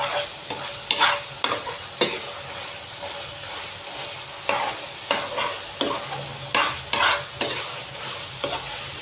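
Chili powder and tomato curry with egg frying in oil in a pan, with repeated scraping stir strokes over a steady close sizzle and no voices.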